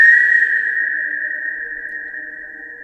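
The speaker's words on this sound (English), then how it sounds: "A shrill ringing noise erupted from the basement." A single shrill, piercing whistle tone sounds loudly at first and holds one steady pitch, slowly fading over a few seconds.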